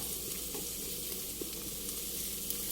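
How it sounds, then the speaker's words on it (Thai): Garlic fries over gentle heat in about a tablespoon of pork lard for a fried egg dish, giving a soft, even, continuous sizzle with faint pops and no voices. "ทีนี้เราจะมาเจียวกระเทียมนะคะ ให้หอมเลยค่ะ"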